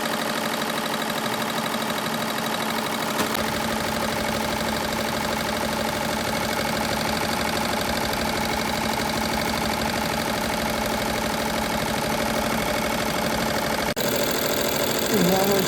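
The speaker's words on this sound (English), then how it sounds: "Starting the satin stitch." An embroidery machine sews a satin stitch in a fast, steady mechanical whir that runs loud and unbroken throughout. A voice speaks over it near the end.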